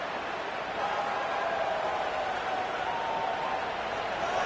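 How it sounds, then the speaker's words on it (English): Steady, dense stadium crowd roar from a college football video game, Virginia playing at home, a continuous broad wash of noise that swells slightly and holds loud throughout without letup. "listen to this crowd noise. This stadium is vibrating"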